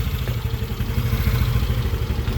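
A Yamaha Aerox scooter bored up to 180cc with a 63mm piston idles close by, a steady mid-pitched engine putter with light mechanical clatter and a faint whir, running through a stock exhaust.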